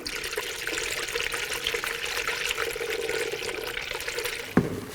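Coolant in a 50-50 mix pours steadily into the cooling system of a 2000-2006 BMW X5 3.0L inline-six, a continuous close trickling splash that ends with a brief knock.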